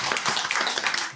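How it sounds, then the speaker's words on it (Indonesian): A seated audience at a talk claps together in a brief, dense burst of applause. "Boleh tepuk tangan, pertanyaan keren banget nih."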